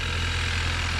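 An Oldsmobile direct injection engine idles after a cold start, a steady low rumble with a constant ticking injector clatter, close and even throughout.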